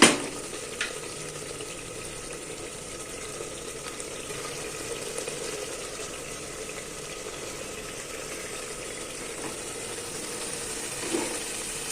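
Brinjal mutton semi-gravy cooking in a pan: a steady low bubbling and faint sizzle that runs evenly throughout, with a soft clink near the start and another near the end.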